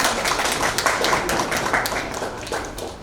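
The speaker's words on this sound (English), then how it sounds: "A round of applause" An audience at a fashion awards panel claps in a dense, steady patter of close hand claps that fades slightly toward the end.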